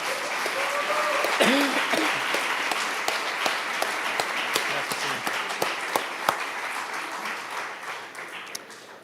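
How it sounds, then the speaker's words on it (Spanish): A church congregation claps for Jesus during a Spanish-language Genesis sermon, with steady dense applause running for several seconds and sharper individual claps standing out, while a voice and faint tonal sounds come through underneath. "Vamos a dar un aplauso al Señor Jesús"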